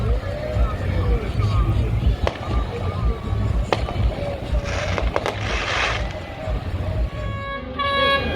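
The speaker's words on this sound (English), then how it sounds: "it's not a gunshots, it's actual fireworks to let everybody know the parade is gonna start" Scattered sharp pops and bangs of fireworks signalling the start of a boat parade ring out over a busy outdoor crowd murmur, with voices talking throughout.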